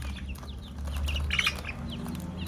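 Chicks and chickens clucking on a Thai farm, soft short peeps and clucks scattered over a low steady hum, fairly faint and close, with no talking.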